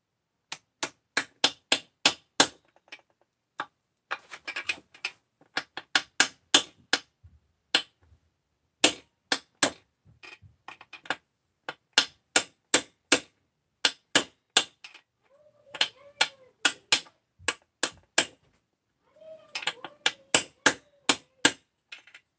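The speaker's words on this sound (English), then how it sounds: "Tap her on down." Repeated hammer taps on a socket, driving a part onto an engine crankcase during assembly, coming in quick sharp bursts of metallic strikes with brief pauses between groups, close and clear.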